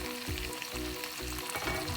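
Chicken fried and stirred in a pan for a coconut lemongrass dish, a dense continuous sizzle with rhythmic scraping strokes of the spoon, close and loud, with no talking.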